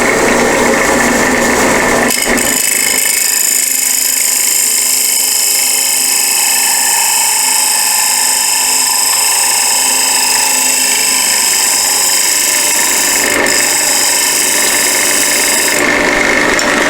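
A wood lathe spins loudly and steadily while turning mason jar lids, a constant high whine that dips briefly near the start and again later.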